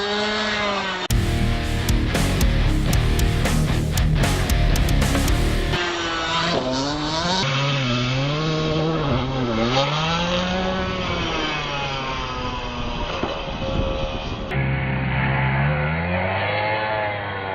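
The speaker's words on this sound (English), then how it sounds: "I've never shown it going full speed with its brushless motor" Animus RC car with a Ghoul RC brushless motor on a 2S LiPo running flat out, a high whining motor pitch rising and falling repeatedly as it accelerates and passes, loud and continuous.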